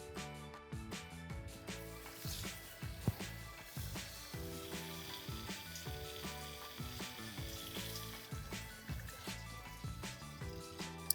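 Water flushing through the supply lines of a Delta widespread bathroom faucet, a steady hissing, spattering stream with rhythmic splashing and no talk.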